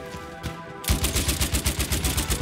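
Rapid automatic gunfire in the video game Battlefield 1, loud and close, a steady rattling burst that starts abruptly after a brief quieter lead-in and keeps a regular fast rhythm to the end.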